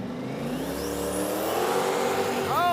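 A race car launching off the line at a drag strip, a loud rising engine roar building steadily and held close throughout.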